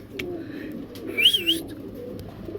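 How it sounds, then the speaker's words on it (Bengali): Danish magpie pigeons at a pigeon seller's coop, a soft low coo rising briefly near the middle over a faint background hum, with a few light chirps and no talking. "এই যে একটা ম্যাকপাই ডেনিশের নর কবুতর"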